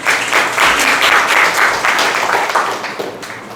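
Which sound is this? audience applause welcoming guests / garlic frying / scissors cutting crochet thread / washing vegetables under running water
audience applause welcoming guests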